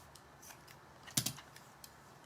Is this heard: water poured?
no